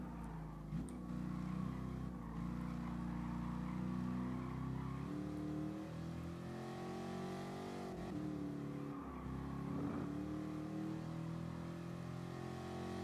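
A race car in the Gran Turismo Sport video game drones with its engine held at high revs, and the pitch rises and dips slightly through gear changes and throttle lifts. The sound is continuous and close, with faint tire squeal and no talking.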